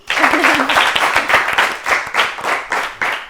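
Studio audience clapping for a young contestant on a children's TV show, dense lively applause sustained throughout with a brief voice or tone near the start under the claps.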